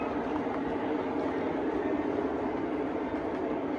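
A model train runs along a home layout, a steady, moderately quiet rumbling hum that holds evenly for several seconds with no voices.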